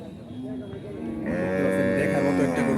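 A large cow, roughly 7.5 maund in weight, at the Horgoj cattle market bellows one loud, sustained moo that begins after about a second and carries to the end, close to the microphone over background murmur.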